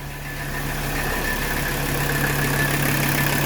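A 1985 Mercedes 300CD diesel engine idles steadily after starting, a close, loud, even clatter and rumble with a low droning hum throughout and no voices.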